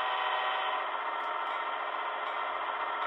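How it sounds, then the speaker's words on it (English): A model Amtrak Pacific Surfliner locomotive's bell gives a soft, steady ringing tone that sustains for a few seconds, quiet and close, with a faint low rumble entering near the end. "And there's the bell. It's kind of soft on the bell."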